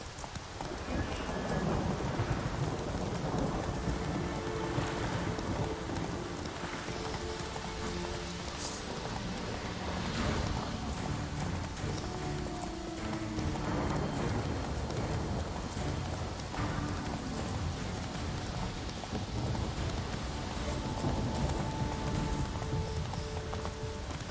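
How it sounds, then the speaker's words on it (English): Heavy rain pours steadily with rolling thunder in The Witcher 3, a dense, loud, continuous wash of downpour with low rumbles and hoof-like clatter beneath, and no talk. "Raining fucking buckets."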